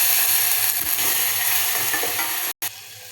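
Tomato frying in a pan for pepper sambar, a dense continuous sizzle with one soft stirring knock early on and a momentary dropout near the end.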